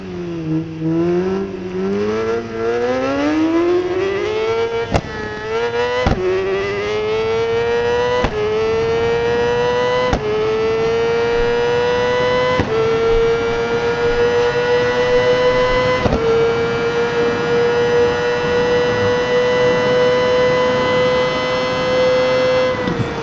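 A 2004 Kawasaki ZX-6R 600 cc sport bike engine screams at top speed, its loud whine climbing steadily in pitch through several gear changes marked by brief dips, then holding high and sustained with no talk.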